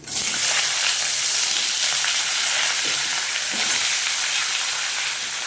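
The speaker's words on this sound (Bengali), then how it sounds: "এবার দিয়ে দেবো সব সবজিগুলো কষে নেওয়ার জন্যে" Potato, eggplant, green papaya and pumpkin sauté in hot oil for a Bengali doodh shukto, giving a loud, steady close sizzle with faint stirring scrapes throughout and no talking.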